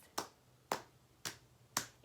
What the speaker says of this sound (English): start patting your legs